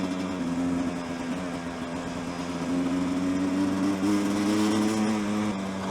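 A gas dirt bike engine hums and drones steadily while riding, its pitch wavering slightly and rising toward the end, heard close with no talking over it.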